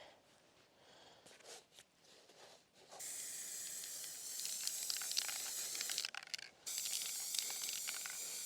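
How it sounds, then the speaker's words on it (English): Spray paint hisses from a can in steady bursts, with short quiet gaps and a couple of brief pauses as the angle changes, close and fairly loud. "It's always helpful to change the angles where you're painting, especially with the spray."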